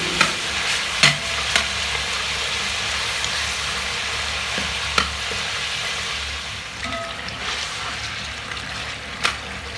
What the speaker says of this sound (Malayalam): ഇടയ്ക്കിടയ്ക്ക് ഇളക്കി കൊടുക്കണം, അല്ലെങ്കിൽ അടിയിൽ പിടിക്കൂട്ടാ.